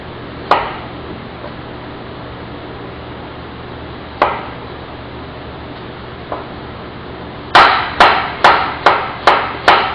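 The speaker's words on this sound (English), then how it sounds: "Now, I will cut them and slice them." A knife chops and slices food on a cutting board: three isolated strikes spaced seconds apart, then a quick run of six sharp, close, evenly paced chops with no talking.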